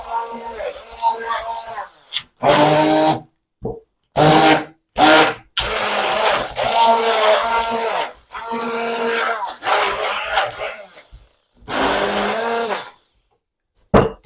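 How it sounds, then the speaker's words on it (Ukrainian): A blender whirs in loud repeated bursts while blending curd cheese smooth, starting and stopping several times with short silences between, close by. "Слухаєте, як в мене блендер працює."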